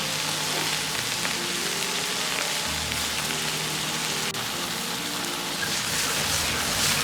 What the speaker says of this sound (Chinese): 油热后，加入控干水分的鸡肉，保持中火，把这鸡肉里边多余的水分炒出香味